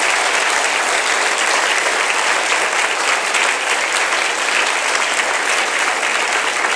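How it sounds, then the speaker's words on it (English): Dense, loud audience applause fills a New School auditorium at a literary award ceremony, steady and unbroken throughout with no talking over it. "let's have another round of applause for the authors who are just fantastic"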